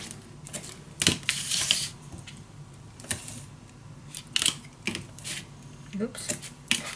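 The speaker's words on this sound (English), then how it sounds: "So now I'm gonna apply some tape" Tape is pulled and pressed around scrapbook paper for a Graphic 45 Mother Goose mini album, with close, crisp clicks and taps and a short ripping burst of tape over a faint room hum.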